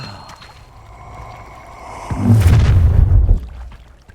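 A fire spell explosion in the Hogwarts Legacy video game, a soft rumbling burst that swells midway and fades out over a low background ambience.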